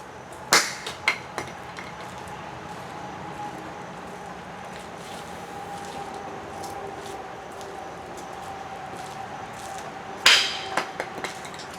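A See All open sight is thrown and strikes the ground, giving a sharp close impact with a few small bouncing clinks near the start, then a second louder clattering impact near the end.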